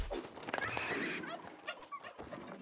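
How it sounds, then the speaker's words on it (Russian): A turkey in the online role-playing game New World lets out a rapid warbling gobble, close and clear, with no talk over it. "А, это индюк."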